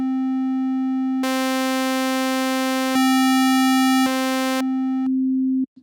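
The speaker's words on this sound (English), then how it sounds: "if I play a note and then move the position knob of the wavetable" A synth holds one steady note while its wavetable position shifts through four waveforms, the timbre jumping from a pure tone to bright, buzzy harmonic-rich shapes and back, loud and alone.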